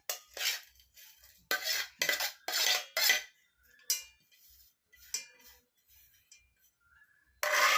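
A spoon clinks and scrapes against a metal vessel while stirring jackfruit rasayana, in irregular bursts of clattering strokes with short quiet gaps, close and fairly loud.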